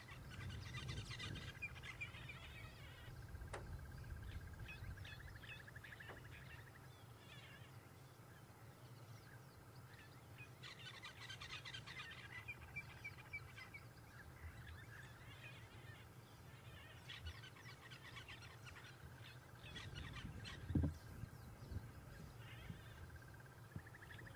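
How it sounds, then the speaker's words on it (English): Many wild birds call and chirp during an African safari drive, with scattered chatter mostly in the distance over soft background noise. "The birds are going crazy with their calls all around us."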